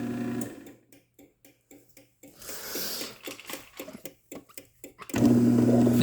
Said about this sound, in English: It has a loose sprocket already in it, and if you want to see proof, here you go. You can see it will spin a little wobbly.